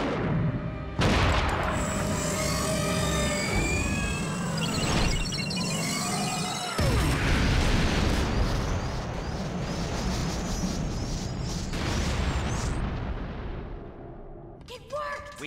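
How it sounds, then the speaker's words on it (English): Cartoon sci-fi torpedo launch in a space battle, with loud booming blasts, whooshing sweeps and layered explosions mixed with a dense action score across the whole stretch. "Zero, launch torpedo 7."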